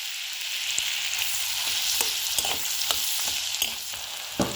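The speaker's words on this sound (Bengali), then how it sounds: "পেঁয়াজটা লাল লাল করে ভেজে নেব।" A medium-sized onion, finely chopped, fries in butter in a pan, giving a steady bright sizzle punctuated by small pops and stirring ticks throughout.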